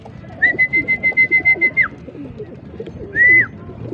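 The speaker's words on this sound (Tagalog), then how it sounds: "Yan ang mga kalapatids." Racing pigeons returning home from a training flight in Santa Rosa, Nueva Ecija, coo softly and steadily in the background, while a bright whistle-like tone pulses through the first two seconds and briefly returns near the end.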